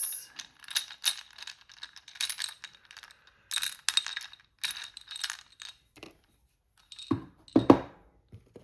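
A four-sided die is rolled and shaken, giving a series of sharp, rattling clicks and tumbling clatters in short bursts, ending with a couple of louder knocks as it settles; no voices.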